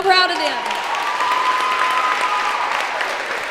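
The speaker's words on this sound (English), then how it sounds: "everybody give these girls a round of applause" An audience claps and cheers for senior players on a high school volleyball senior night in a gym, sustained dense applause with a few whoops early on, loud and echoing, with voices mixed in.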